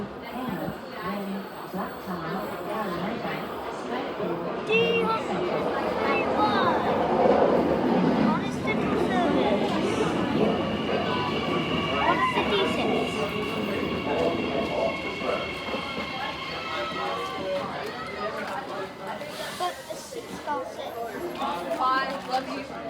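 A Sydney train passes with a steady rumble and screeching wheel squeals, rising and holding for a long stretch while people chatter in the background.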